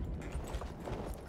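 Horse hooves clip-clop in the Battlefield video game, a faint, quick patter of hoofbeats repeating across a brief stretch with no talk over it.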